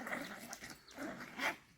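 A dog barks and whines faintly at a distance amid outdoor background noise, with a couple of short yelping calls standing out over the quiet ambience.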